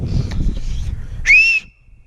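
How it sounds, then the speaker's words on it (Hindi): A person outdoors at Spinkhor Lake in the Utror Valley, Swat, gives one loud, piercing rising whistle after a moment of low rumbling noise, then falls quiet. "एक आपको सीटी बजानी आनी चाहिए,"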